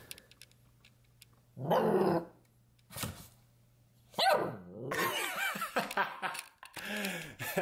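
A puppy barks and growls in short, loud bursts, playful yips alternating with throaty rumbles, close by and alone as it runs circles around a table.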